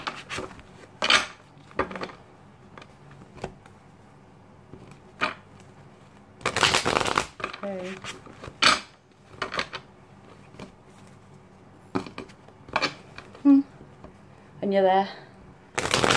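Tarot cards being shuffled at close range in short bursts of riffling and rubbing, with quiet pauses between them, while a person speaks in between.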